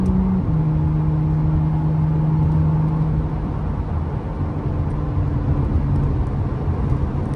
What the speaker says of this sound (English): you wouldn't know it's a V6 as far as the sound of the car goes